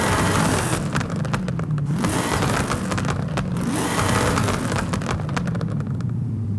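A 2019 Corvette ZR1 in Forza Horizon 5, tuned with anti-lag, roars loudly and steadily through upshifts, with dense crackling pops and bangs spiking through the engine drone.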